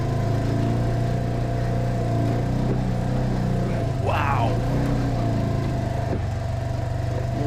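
A Polaris General XP 1000 Troy Lee Edition side-by-side crawls slowly off-road, its engine droning steadily and loudly at low revs with a brief rising whine partway through, under a talking driver.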